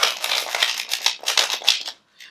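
Tarot cards shuffled by hand, a run of quick crisp riffling bursts in close succession, loud and near, ending in a short pause and a last light flick.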